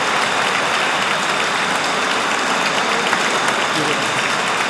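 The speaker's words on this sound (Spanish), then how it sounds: "vamos a dar un aplauso" Steady, dense applause from an audience at a talk about the Virgin Mary, honoring a bishop; broadband clapping holds evenly and loudly through the whole stretch without letting up.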